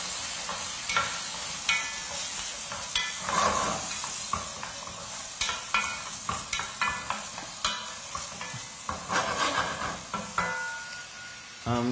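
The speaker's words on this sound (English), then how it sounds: "So let's shallow fry." Lamb chops shallow frying in olive oil in a pan, with constant sizzling and hissing and a run of rhythmic scraping strokes as the meat is tossed, while people talk over it.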